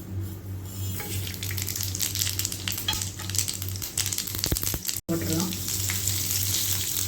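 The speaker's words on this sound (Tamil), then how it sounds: "இப்போ தாளிச்சிடலாம்." Mustard seeds, fennel, cinnamon and cloves sizzle and crackle loudly in hot oil for gram flour kurma, a dense continuous frying hiss with a brief cut near the end, under a few spoken words.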